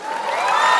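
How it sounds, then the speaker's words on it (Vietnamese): A live comedy show audience breaks into loud applause mixed with cheering, swelling steadily over a short burst of under a second. "Ai đồng ý thì vỗ tay ạ."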